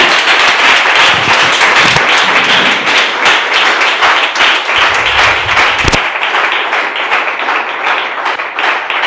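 Church congregation applauds the Lord after worship, a loud, dense, sustained wash of many hands clapping that fills the room for the whole stretch.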